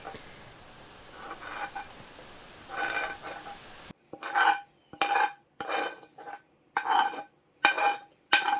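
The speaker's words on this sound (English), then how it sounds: "After placing the beans in my pan, I will then add my browned ground chuck and onions." Browned ground chuck and onions scraped into a pan of beans, heard as a series of about eight distinct close spoon scrapes and thuds against the pan, with brief quiet gaps between them and no voice.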